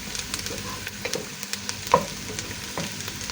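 Spice paste frying in a pan until reddened, a steady close sizzle broken by scattered stirring clicks and scrapes of a spoon against the pan.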